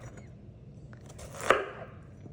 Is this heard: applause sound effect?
no